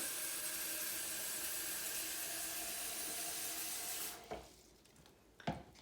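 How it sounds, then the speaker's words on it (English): Running tap water gushes steadily into a container for several seconds, then cuts off, followed by a couple of small clunks and splashes. "So we're going to fill this with water."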